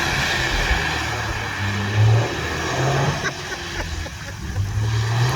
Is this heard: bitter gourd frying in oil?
no